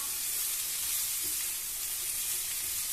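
Vegetables sizzle and fry steadily in a hot pan as salt, pepper and Ajinomoto are tossed through them, a continuous bright hiss with no talk.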